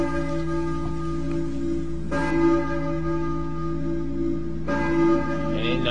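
A church bell in the video game Silent Hill 1 tolls twice, slow and resonant, its long ringing tail lingering over a steady low background hum.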